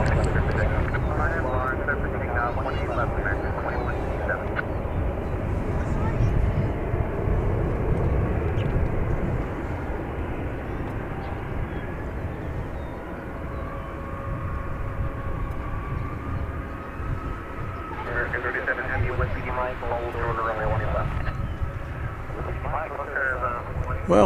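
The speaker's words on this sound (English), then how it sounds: "American Flight 37 touching down from Madrid." An American Airlines flight arriving from Madrid touches down at DFW Airport, its broad jet roar rumbling steadily throughout with a slight swell near the start and a faint tonal whine later on.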